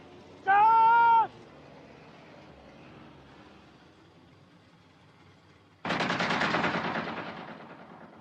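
Gunfire in a film about the Libyan desert resistance, arriving as one loud burst of rapid shots up close that fades out slowly, after a brief tonal cry earlier on.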